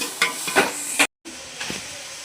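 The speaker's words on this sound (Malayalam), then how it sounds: "നന്നായി ഒന്ന് ഇളക്കി കൊടുക്കാം." Chopped onions with cinnamon, cloves and cardamom being stirred in a pan for pepper chicken, with several close scraping strokes over a soft sizzle, then a brief silent gap before quieter stirring resumes.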